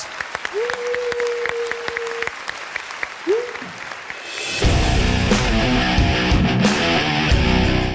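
Audience applause at a televised talent show, a loud sustained burst of clapping swelling in midway and running steadily to the end, following a stretch of singing.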